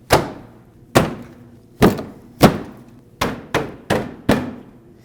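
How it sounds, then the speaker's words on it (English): The front fascia of a 2009-2010 Dodge Ram 1500 is pushed onto its bumper brackets, with eight sharp plastic thumps and clicks as its tabs snap and lock in, spaced roughly half a second to a second apart, loud and close, with no talking. "install the front fascia, and it just has these tabs that clip in and will lock as you push it."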